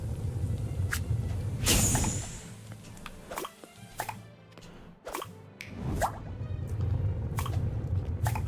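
Watery drips, plops and squishy splashes in the cooking game Battle Chef Brigade, a string of short, sharp droplet sounds spaced about a second apart over a steady background bed.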